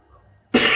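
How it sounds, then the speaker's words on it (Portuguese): A single sharp cough bursts out close to the microphone after a moment of near silence, ending the short stretch abruptly. "Perdão pela tosse."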